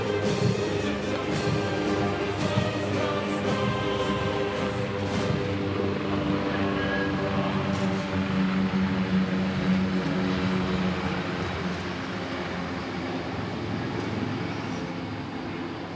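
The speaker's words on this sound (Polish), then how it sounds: "Puszczyk. Lekkie śmigłowce przeznaczone do szkolenia pilotów." Light PZL SW-4 Puszczyk training helicopters passing over a military parade, a steady airborne engine and rotor drone heard from a distance amid broad outdoor noise.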